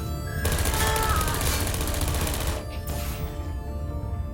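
Automated sentry turrets from the video game Portal spraying bullets in a sustained rapid burst of gunfire, loud and dense for a couple of seconds before breaking off into quieter game ambience.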